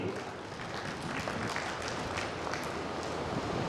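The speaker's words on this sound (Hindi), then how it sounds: "इस बच्ची के लिए आप जितनी ताली बजाएंगे उतना ही हमें खुशी होगी" Applause from an audience at an event honouring a young girl, a dense continuous patter of clapping lasting a few seconds with no clear speech.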